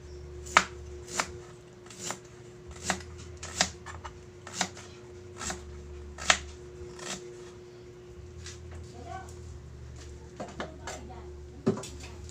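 Ingredients for galunggong fish paksiw are chopped on a board, a steady series of about a dozen sharp, close knife knocks spaced roughly a second apart over a faint background hum, with no voice.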